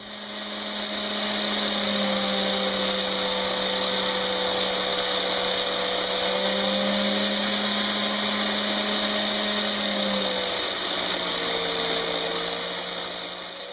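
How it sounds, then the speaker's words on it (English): An angle grinder shapes a horseshoe knife blade, a loud continuous high-pitched whine that holds for over ten seconds with slight shifts in pitch as it bites the steel. "it's really kind of difficult to do that kind of stuff on the angle grinder"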